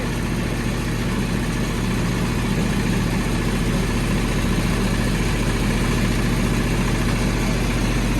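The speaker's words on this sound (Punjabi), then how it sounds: "ਅਸੀਂ ਟੈਂਪੂ ਇਹ ਫਿੱਟ ਕਰ ਲਿਆ ਸੀਗਾ ਟੈਂਪੂ ਦਾ ਇੰਜਣ ਲਿਆ ਕੇ" A tempo (three-wheeler) engine fitted with a belt drive to power a farm chaff cutter runs steadily at a constant loud drone, close by and unbroken, with no talking.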